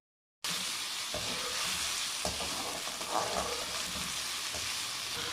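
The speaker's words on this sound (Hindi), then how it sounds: "इसको हमने अच्छे से फ्राई कर लेना है, गोल्डन ब्राउन नहीं करना" Onions frying in a pan for okra masala, a loud, steady close-up sizzle that starts abruptly and holds continuously, with a few faint stirring scrapes underneath.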